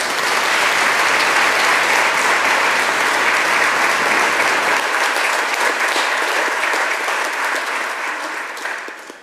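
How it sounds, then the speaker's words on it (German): Congregation applauding during a Three Kings Day high mass in a church, sustained loud clapping of many hands that gradually thins and fades toward the end. "Mit einem Applaus wollen wir uns bei euch bedanken."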